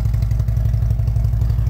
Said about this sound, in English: those Rinehart pipes sound great